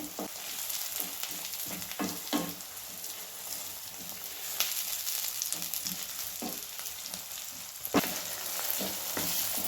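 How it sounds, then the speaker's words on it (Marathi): Onion and tomato sizzle and fry in a pan while being mixed, a soft continuous crackle broken by sharp scraping clacks of the spoon at irregular intervals, with no voices. "आता ह्यातच आपण टोमॅटो टाकूया टोमॅटो टाकून चांगलं मिक्स करून घेऊया"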